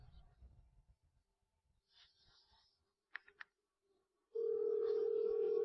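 A telephone dial tone sounds when calling on the phone, a steady loud tone starting near the end after quiet breathing and a couple of brief clicks.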